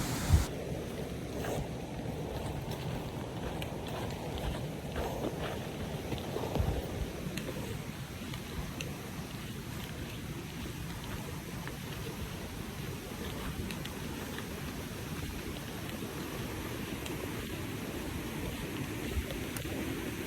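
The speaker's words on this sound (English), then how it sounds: "flowing quite fast after all of our rain last night" Fast-flowing creek water swollen after overnight rain on the Robson Trail to Gillies Lookout, a continuous rushing, splashing wash heard up close and steady throughout, with no voices.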